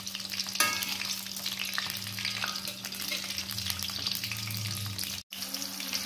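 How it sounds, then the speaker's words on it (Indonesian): Tofu and tempeh frying in hot oil for vegetable lodeh, a steady close sizzle and crackle running throughout with a faint low hum beneath and a brief dropout near the end. "Goreng dulu tahu tempenya sampai setengah matang,"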